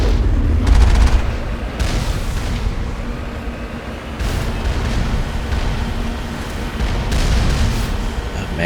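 Turrets keep firing in Mass Effect, a steady dense barrage of booming shots and rumble with no pauses.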